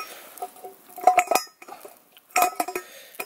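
A metal pot lid being clinked and pried off a pot just taken out of a campfire after baking cleavers for wild coffee, with two bursts of close, sharp metallic clanks and scrapes separated by a brief pause.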